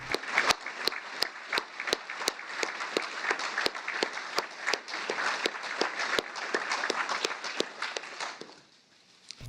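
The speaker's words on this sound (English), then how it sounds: "Clap right into that microphone." Sharp, loud claps struck close to a microphone in a steady repeated rhythm over a bed of broader crowd applause, fading out near the end, with a brief spoken phrase.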